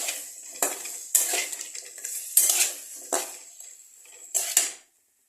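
A spoon stirs chicken biryani masala in a pot, making five or six distinct scraping clatters against the metal at irregular intervals over a faint sizzle, close and fairly loud, ending abruptly.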